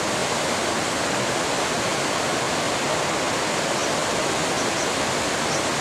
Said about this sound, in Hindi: एक तरफ है अलकनंदा नदी की तेज और शोर करती हुई जलधारा अपने अस्तित्व का एहसास कराते हुए,